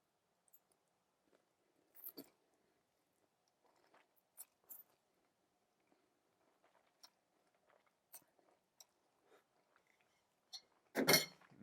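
Eating shrimp scampi pasta with noodles and shrimp, using cutlery: scattered soft clinks of utensils against a dish and quiet chewing, with a louder clatter near the end, no talking.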